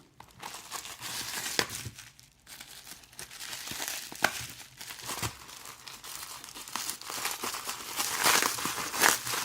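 A utility knife slices through packing tape on a cardboard box, giving crinkling, tearing strips of sound with sharp rips and rustles throughout, fairly close and steady with no talk.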